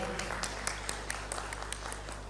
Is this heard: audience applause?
yes